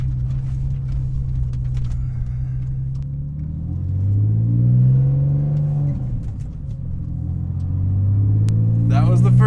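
A rebuilt Porsche 996 Carrera 4 engine revs up and rumbles as the car accelerates, the pitch dropping at the shift into second gear before climbing again, loud and close from inside the cabin.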